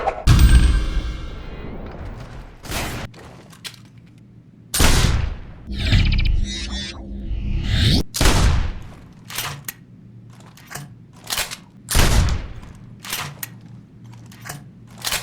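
Shotgun blasts from a first-person shooter game, a series of loud, sharp booms spaced irregularly with short decaying tails, some followed by clattering reload and pump sounds in between, with no talking.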